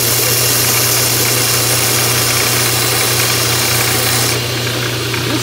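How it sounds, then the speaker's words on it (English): A belt sander runs steadily, grinding the flat on the side of a steel knife blade, a loud, constant motor drone with abrasive hiss, close up and uninterrupted. "try to find out where the sander is making this move"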